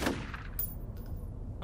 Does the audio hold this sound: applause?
no